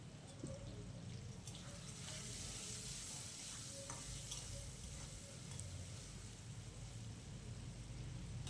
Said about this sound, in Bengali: লবণ আর হলুদ দিয়ে খুব ভালো করে মিশিয়ে নিয়ে কিন্তু আলুটাকে ঢাকা দিয়ে দিয়ে একটু ভেজে নেব।